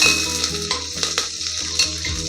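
Green chillies frying in a hot pan, a loud continuous sizzle with a few crackles and stirring scrapes, no voices.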